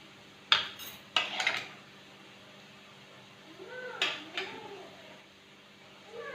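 A metal baking tray handled in a kitchen, sharp metallic clanks and rattles in a couple of clusters with quiet pauses between, close by.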